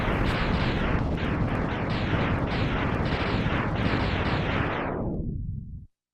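A continuous barrage of loud, rumbling explosions from the video game Mega Man X, with rapid repeated blasts filling the clip before cutting off abruptly near the end, with no voices.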